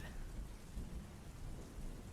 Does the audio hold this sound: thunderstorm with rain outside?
yes